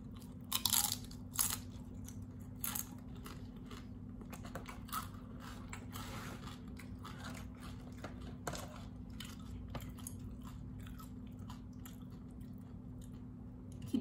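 Crispy fried wontons from a Hong Kong noodle shop are bitten and chewed up close, with a few sharp crunches early on and then softer, steady chewing over a quiet, constant background hum.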